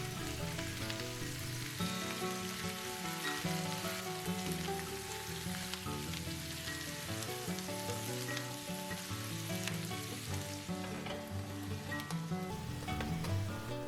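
Chicken pieces fry in butter for an 18th-century Ottoman kirma kebab, giving a steady, close crackling sizzle that continues evenly throughout with no speech.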